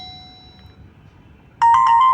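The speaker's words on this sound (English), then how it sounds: "You can select alarm ringtone from your music, from your alarm, and choose from ringtone." A Nokia keypad phone sounds its alarm ringtone, a loud electronic chiming pattern that breaks in suddenly after a near-silent moment and repeats in quick bright bursts.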